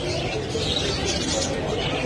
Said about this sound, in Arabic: طيور حب عاديات.